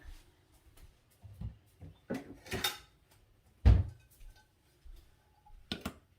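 Kitchen dishes clatter as a plate is grabbed while grilled steak kabobs are being prepared, with a few scattered soft clinks and knocks and one louder ceramic clunk partway through, close by and with no talk.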